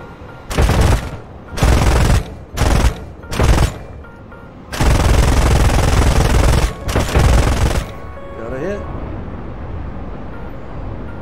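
Aircraft cannons on an F-5E in the War Thunder combat game fire in loud, close bursts: several short rattling volleys, then two longer sustained strings, before fading to a quieter engine hum.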